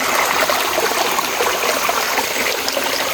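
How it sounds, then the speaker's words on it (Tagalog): Flowing stream in an outdoor area, a steady close rush and bubbling of water with an even loudness and no voices. "may sapa"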